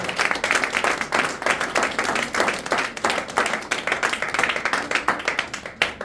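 Church congregation clapping loudly in a fast, steady rhythm to acclaim the Lord, dense overlapping handclaps from many people filling the room without pause.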